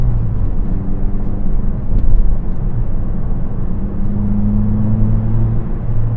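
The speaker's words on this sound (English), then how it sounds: "when you downshift, you definitely get the crackle from the MagnaFlow" Cabin view of a 2005 Mazda 3 with a MagnaFlow exhaust driving along, a steady loud low engine and exhaust drone with road rumble and slight pitch shifts as it runs.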